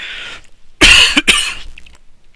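A person gives a hoarse, heavy cough in two close bursts, loud and near, with a quieter breathy sound before and faint trailing noise after.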